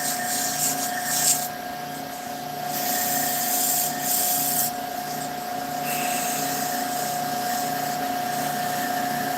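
Hand sanding with 150 grit sandpaper, a steady scratchy rubbing that swells in a few louder strokes, close and continuous over a constant background hum.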